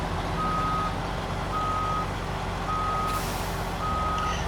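A capable in-game truck reverses in a driving game, its backup alarm repeating steady evenly spaced beeps over a continuous low engine drone, loud and close with no talk.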